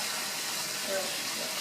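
About half a cup of water pours into a hot wok for mapo tofu, a short gushing splash over a sizzling hiss that lasts under two seconds.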